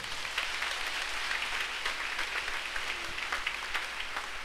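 Applause at a Catholic parish Assumption celebration acclaiming a Marian grotto, a faint, steady patter of clapping from a gathered congregation, heard from a distance for a few seconds.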